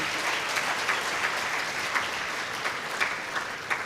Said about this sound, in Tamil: அவங்களுக்காக ஒரு பெரிய கைத்தட்டு கொடுங்க.